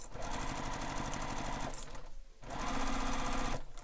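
Sewing machine stitching a bag lining, a fast close mechanical chatter in two bursts separated by a short pause.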